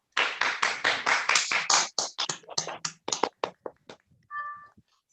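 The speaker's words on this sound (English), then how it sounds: "please unmute yourself and give a huge round of applause to this platform" Scattered hand claps from a few people unmuted in an online meeting, a quick uneven burst that thins out into isolated claps within a few seconds, followed by a short electronic tone.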